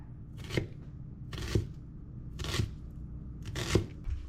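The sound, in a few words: knife chopping onion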